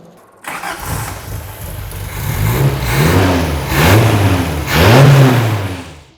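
A classic racing car at the Magny-Cours circuit revs hard at full throttle, a loud, close engine roar that climbs in several surging pitch sweeps before cutting off.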